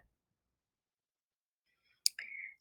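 A single sharp mouse click on a submit button, followed at once by a short soft electronic tone, in an otherwise quiet room.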